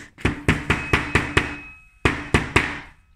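A hammer strikes a heavy electronic cigarette: six sharp, evenly spaced blows, a brief pause, then three more, each loud and close with a short ringing tail, and no talk over them.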